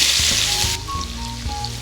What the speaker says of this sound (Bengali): আমার তেলটা যেহেতু গরম আছে আমি সেই তেলেই পেঁয়াজ ছেড়ে দিচ্ছি।